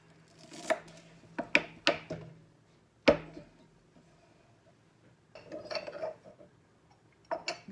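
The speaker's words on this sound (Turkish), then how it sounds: "İlk önce dereotumuzu doğrayalım." Fresh dill chopped with a knife on a board in a home kitchen: a few sharp, separate knife strikes, then a quiet pause and a looser burst of lighter cuts, all close and clear with no talk.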